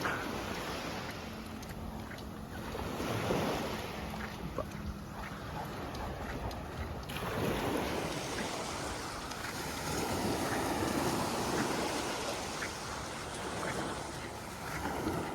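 A large boat's engine drones steadily with waves and wind rushing around it, a continuous low rumble with no talking.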